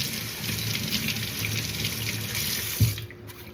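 Tap water running steadily into a kitchen sink while something is rinsed during meal prep, a continuous close splashing stream that carries on for a few seconds before cutting off near the end.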